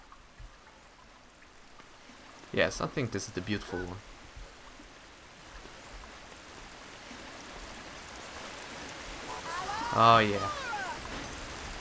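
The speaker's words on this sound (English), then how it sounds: "Now I hear a waterfall." A waterfall in the Harry Potter and the Philosopher's Stone PC game gives a steady, soft rushing hiss that runs the whole time. A player briefly speaks over it twice.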